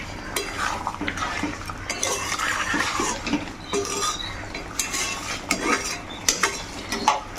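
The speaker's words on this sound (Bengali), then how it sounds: "এবারে ভালো করে মিশিয়ে নেব।" Bengali dhaniya chicken curry stirred in a pot, with a spoon scraping and clinking against the metal in irregular strokes over a faint sizzle, near and moderately loud, with no talking.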